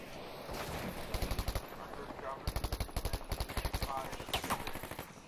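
Rapid automatic gunfire from Battlefield V, loud bursts of repeating shots with clustered rhythmic cracks, several volleys across the span amid game noise and a voice.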